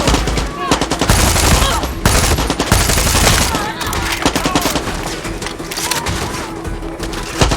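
Rapid bursts of automatic gunfire from a Far Cry 6 shooter game, loud and dense with sharp repeated cracks across the whole stretch, with a voice talking underneath at times.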